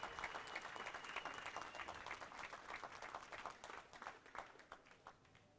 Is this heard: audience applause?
yes